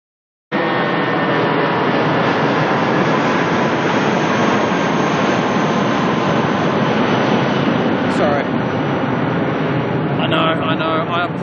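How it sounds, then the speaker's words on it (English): A jet airliner departs Auckland Airport bound for Christchurch, its engines rising abruptly into a loud, sustained broadband roar that continues to the end, with a brief voice near the finish. "we've got a departure heading off to Christchurch"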